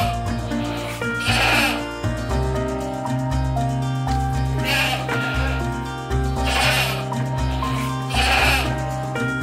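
Goats on an Indonesian dairy goat farm with about a hundred head, including PE Kaligesing, Saanen, Anglo cross and Javanese breeds, bleat repeatedly in loud overlapping calls over a steady background drone, with no one talking.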